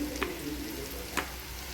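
Onion browning in a pan while making dahi bhindi, a steady low sizzle of frying with two brief stirring scrapes, close and alone with no talk.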